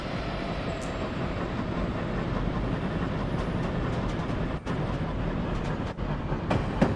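A New Haven Line train running in Train Simulator Classic, with a continuous low rumble of wheels and motors, occasional clicks from the rails and brief dips in the noise, heard alone without speech.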